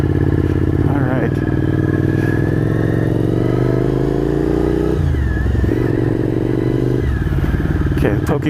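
A motorcycle engine runs and revs loudly throughout, with shifting pitch as it accelerates and changes gear, close and continuous with some clatter.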